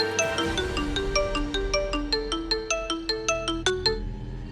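A phone ringtone plays a bright, repeating electronic melody of plucked, bell-like notes in a steady rhythm, close and clear with no talk over it.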